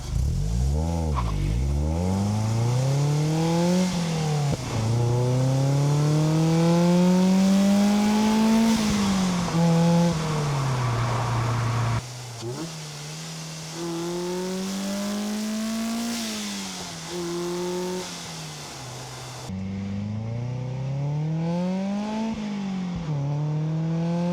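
A Mazda NC Miata engine with a cold air intake revs up and down repeatedly, its pitch climbing and falling in long sweeps, loud and close with an intake roar.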